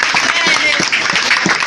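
Church congregation claps during a sermon, a short, busy burst of applause with voices and shouts mixed in over it.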